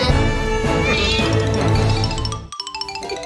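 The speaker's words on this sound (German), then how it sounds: "Kätzchen!" A kitten meows repeatedly, high and bright, over a busy layer of children's television music and chiming tones that cuts out briefly before plucked notes resume.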